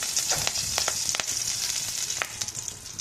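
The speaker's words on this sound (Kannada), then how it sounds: "ಕರಿಬೇವು ಹಾಕೋಣ." Curry leaves hit hot oil in a pan with spluttering mustard seeds, setting off a loud, steady sizzle flecked with scattered crackling pops, with no talking.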